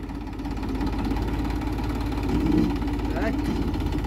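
A tractor engine runs at a steady, throbbing idle close by while its hydraulics lift a trailer with a broken wheel, and people talk over the drone.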